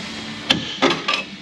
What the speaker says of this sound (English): Come here, pry bar, get in there.